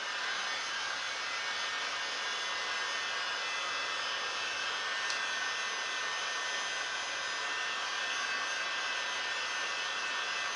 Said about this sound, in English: I like to keep the heat gun moving.